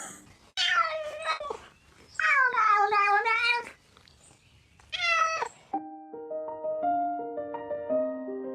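A cat lets out several loud, drawn-out meows and yowls in quick succession, close to the microphone, followed by a steady electronic beeping tone.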